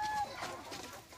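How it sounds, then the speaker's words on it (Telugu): Chickens clucking as they eat in a tribal village: a few soft, short clucks close by over about a second, with faint background noise. "ఇది తీసే చెల్లి తినేస్తున్నాయి కోళ్ళు"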